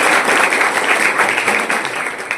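An audience at a girls' school event in Purnia, Bihar, applauds a guest official with a burst of loud, dense clapping that stays strong and then eases slightly.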